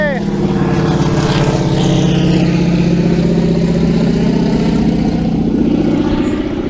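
A small propeller plane flies low overhead above a bass pond, a loud sustained engine drone holding steady for several seconds.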